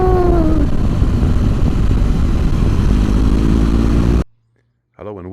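A BMW R1200GS Rallye motorcycle underway, with a loud, steady engine drone and rushing wind that rises in pitch, then cuts out abruptly into near silence before a short burst of noise returns at the end.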